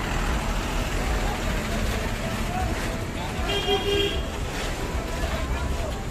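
Heavy traffic jam on an Indian highway, with repeated car and bus horns honking over a steady roadway rumble, heard close by from inside a bus, with people talking underneath.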